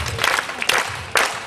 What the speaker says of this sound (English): which we can play better if there was a nice clap from the audience.